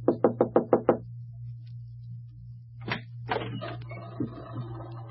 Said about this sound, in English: and knocks on the door.